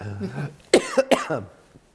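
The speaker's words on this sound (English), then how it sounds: "I have to cough." A couple of short, harsh coughs close to the microphone, with some throaty breath before and after.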